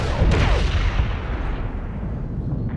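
Bombs from an airstrike detonate in the Medal of Honor video game, a loud heavy blast rolling into a deep sustained rumble that fades slowly over a few seconds.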